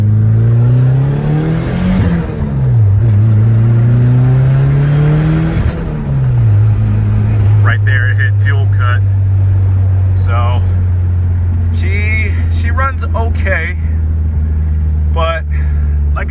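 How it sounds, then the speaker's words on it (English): A DSM car's engine revs up through a short, small acceleration pull, loud and steady with rising then settling drone, while a person talks over it in the second half. "So I can't do a big pull, but I'll do a small pull just so you can see."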